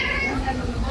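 A young cat meows, a drawn-out tonal cry heard up close, blended with a person's voice in a lively indoor setting.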